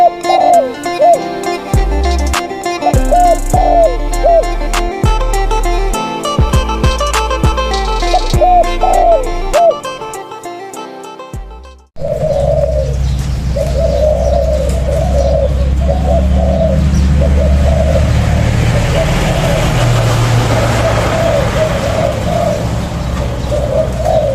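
Soft, repeated spotted dove coos in a steady rhythm, first over a clicking, musical backdrop, then with a hissy outdoor ambience behind.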